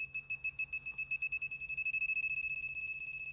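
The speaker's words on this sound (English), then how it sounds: "Okay, so you can hear it beeping." An Arduino ultrasonic distance sensor alert emits a high, thin electronic beep that repeats faster and faster until the pulses nearly run together, steady and fairly faint, with no voice over it.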